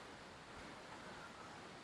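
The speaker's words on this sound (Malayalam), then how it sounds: "വെള്ളം വീഴുന്ന സൗണ്ട് കേൾക്കാം അവിടെ അടുത്തൊരു ചെറിയ തോടൊക്കെ ഉണ്ട്" Water falls continuously into a small stream near a tunnel at Kappakkanam, a faint, steady rushing wash with no talk over it.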